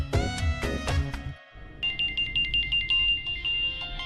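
A phone ringtone plays during a call, first as a few loud tonal bursts, then after a short gap as a quicker, lighter repeating melodic pattern.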